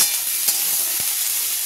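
Cut potatoes fry in hot oil with black cumin for a ridge gourd and poppy seed curry, a steady close sizzle broken by a few soft utensil knocks, with no talking.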